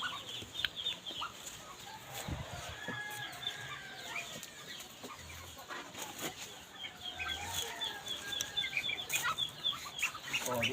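Domestic ducks gather at a feeder in rural Ilocos in the late afternoon, giving a steady chorus of quacks and clucking calls that sound close by and continue throughout.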